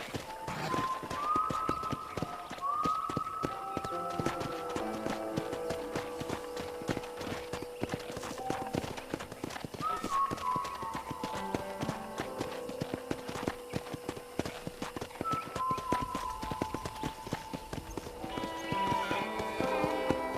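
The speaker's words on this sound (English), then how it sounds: "I picked out a fine horse for you." Horse hooves clip-clop steadily through the Red Dead Redemption video game, a continuous walking rhythm under music with tonal melodic lines and occasional snorts or voices in the background.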